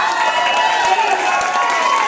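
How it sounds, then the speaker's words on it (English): Applause for the book's curator at the CRAVE Dallas launch party in January 2011: a steady, dense wash of clapping from a crowded room that runs unbroken for the whole stretch. "she deserves an amazing round of applause"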